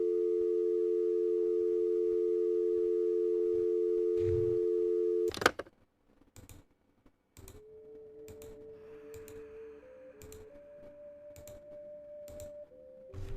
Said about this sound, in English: Now I got an error tone.